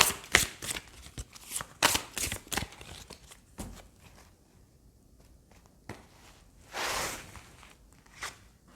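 Tarot cards being shuffled by hand, crisp papery riffles and slaps in quick clusters up close, with a quieter pause midway and then another burst of card noise, no talking.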